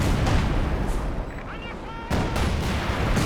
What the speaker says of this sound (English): So light artillery barrage into the centre.